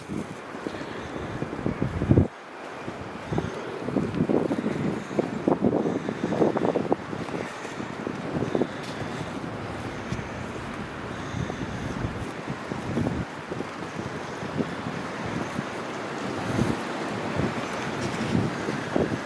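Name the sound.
rushing river rapids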